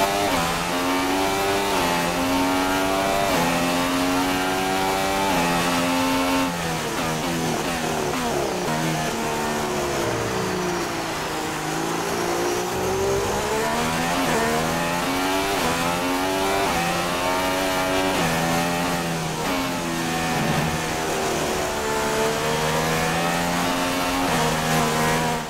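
A Formula 1 car in the F1 2016 racing game revs hard with rising and falling engine pitch through gear changes and corners, loud and continuous as it struggles for grip on its tyres, with no talk.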